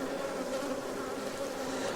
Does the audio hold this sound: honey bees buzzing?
yes